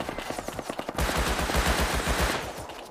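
Rapid automatic gunfire in the survival game Rust, a close, loud burst of shots in quick succession that grows heavier and denser partway through.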